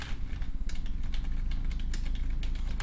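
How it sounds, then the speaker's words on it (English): Computer keyboard typing, a quick uneven run of soft clicks and key taps close to the mic, steady for a few seconds with no voices. "Let me just type in some random stuff."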